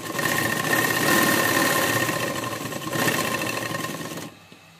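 Sewing machine running steadily while double-stitching a burqa seam, a dense continuous mechanical whir for about four seconds with a brief dip midway, then stopping abruptly and leaving near silence.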